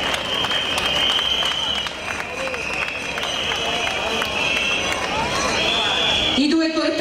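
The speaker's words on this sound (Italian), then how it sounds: "facciamogli un applauso di nuovo, un applauso di caloroso benvenuto e di accoglienza" A large outdoor crowd at a national labour demonstration march in Rome applauds and cheers continuously amid a busy hubbub, with a high whistle-like tone and a voice breaking through near the end.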